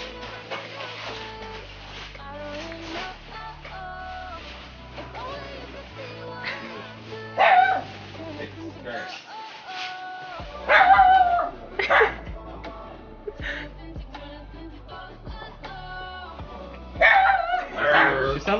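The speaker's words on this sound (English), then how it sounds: "Molly's just standing there barking." A dog barks repeatedly from a standing spot near a house, sharp bursts standing out over steady background music.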